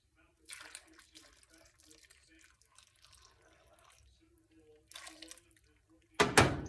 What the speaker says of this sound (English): put water into the base of our pot.